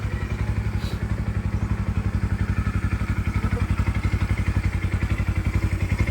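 A 240cc motorcycle engine idles during break-in at about 1,500 RPM, its rapid, even putt-putt pulses close and loud, with a mechanical clatter riding steadily on top.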